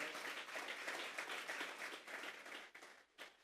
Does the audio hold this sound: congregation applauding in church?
yes